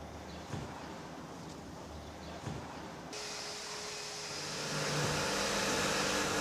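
A car is driven in at close range, its engine a low steady rumble that swells louder as it approaches, with faint voices calling out directions.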